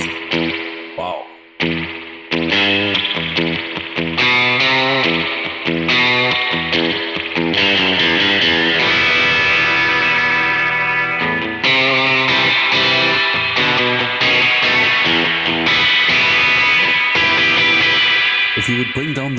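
Electric guitar run through a Kemper Profiler, with a spring reverb and other effects blending together, plays a continuous sustained, slightly distorted passage of chords and notes.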